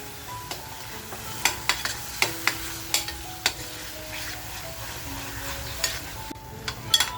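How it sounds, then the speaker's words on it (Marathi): Grated tomato and salt going into a frying masala for a fish thali, a soft continuous sizzle under a run of sharp, evenly spaced spatula taps and scrapes on the pan, with no voices. "आता जो टॅमॅटो आपण किसून घेतला आहे तो टॅमॅटो टाकून घेते आणि लगेचच बघा मीठ सुद्धा टाकते."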